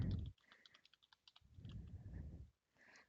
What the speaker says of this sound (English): So here we can start typing